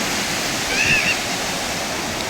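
Waves wash onto a rocky, stony beach at Alibag on the Konkan coast, giving a steady, close, full surf rush with no clear breaks, heard alone without talk.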